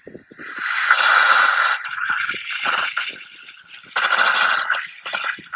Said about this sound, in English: that's the air you hear in the main